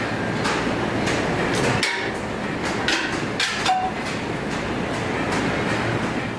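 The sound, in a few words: craftsman hammering metal pieces off dies at Wendell August Forge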